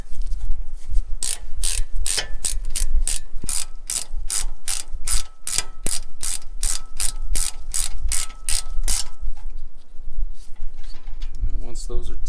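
Ratchet tightening 19mm front brake bolts on a Nissan Armada (Y62 Patrol): a steady run of sharp, close metallic clicks for about eight seconds, then a pause and some quieter handling noise.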